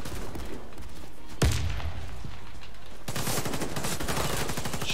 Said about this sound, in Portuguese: Tiros, tiros.